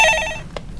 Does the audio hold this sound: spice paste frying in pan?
no